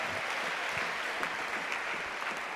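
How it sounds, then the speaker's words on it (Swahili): A crowd claps steadily for a couple of seconds, a dense, even patter of many hands, at a university chaplaincy church service. "Mpigieni makofi huyu mwaka wa kwanza."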